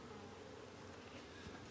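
Honey bees in a split hive buzz in a dense, continuous hum, close and soft, a steady swarm drone with no voices.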